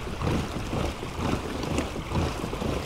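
Steady wind noise rushing over the microphone while pedalling an Old Town Salty PDL pedal-drive kayak on open water, a continuous broadband roar that swells and eases in gusts, with lapping water beneath and no talking.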